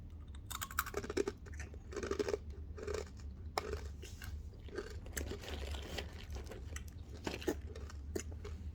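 Someone bites into and chews a crunchy Indian chocolate snack up close, with repeated sharp crackling crunches in irregular bursts against a low, steady background.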